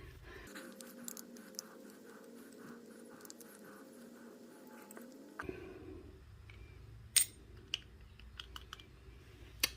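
A hardened, plastic-like carburetor diaphragm from a Husqvarna 322L trimmer is handled, giving faint crinkly clicks and scratches over quiet background hum, with a few sharper taps toward the end.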